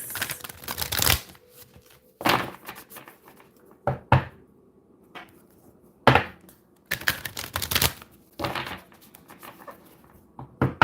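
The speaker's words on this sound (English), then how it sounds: "I'm going to shuffle 4 times" Cards are shuffled in several separate bursts of brisk riffling and slapping, close up, with quiet pauses between them.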